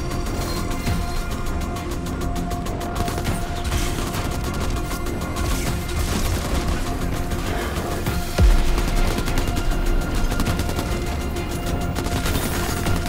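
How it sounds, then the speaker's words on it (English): In Crackdown 3, an artillery barrage pounds the Ashwood Marina assault amid dense, rapid gunfire, with a continuous loud clatter of shots and a heavier blast landing late on. "Incoming artillery."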